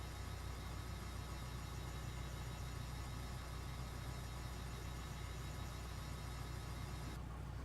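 A Cessna C172 engine idles in the Prepar3D flight simulator, a steady low drone with a constant vibrating hum that stays level throughout and thins slightly near the end.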